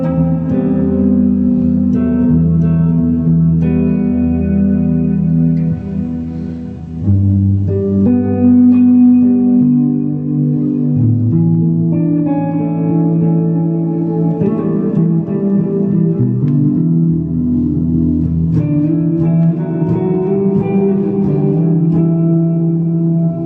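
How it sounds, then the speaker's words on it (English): Electric guitar through a TC Electronic Plethora X5 multi-effects pedal, with heavily exaggerated reverb smearing sustained chords and notes into a continuous, loud, washy tail for the whole passage, no talking. "I've exaggerated the reverbs a bit so that you could hear what it can do."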